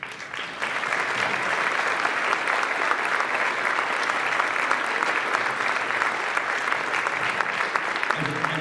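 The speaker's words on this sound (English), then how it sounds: "I'd like everybody to give a round of applause for all the people who've helped us." An audience at a career talk on the entertainment business bursts into steady, dense applause that holds evenly for several seconds, loud and close, with no speech over it.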